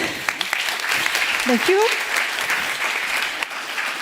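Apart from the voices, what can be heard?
conference audience applause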